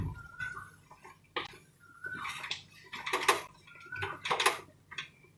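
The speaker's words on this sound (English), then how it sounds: "And again keep stirring it." Mushroom risotto stirred in a pot over a high gas flame, with a spoon scraping and knocking against the pot in irregular bursts of clinks and scrapes, fairly close, with no talk.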